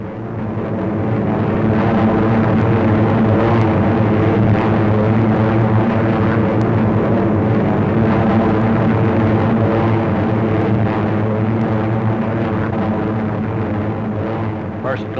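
A tow aircraft drones overhead while flying with gliders, a steady loud propeller engine hum that swells in and stays constant, with a narrator speaking over it.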